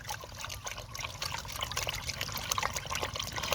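Liquid fertilizer is stirred into water in a watering can for a garden crop, giving continuous sloshing and trickling splashes at close range, moderately loud and unbroken throughout, with no talk.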